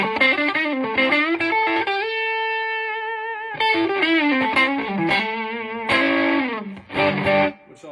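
An electric guitar played through a boost pedal stacked on an overdrive sounds thick and distorted, with sustained chords and quick lead phrases at a loud, steady level.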